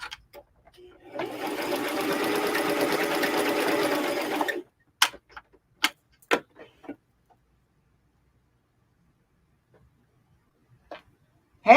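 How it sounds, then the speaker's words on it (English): A serger sewing machine stitches closed the arm seams of a sweatshirt, running in one steady loud whirring burst of about three seconds, followed by a few faint clicks and handling sounds. "Close the arms up with my serger."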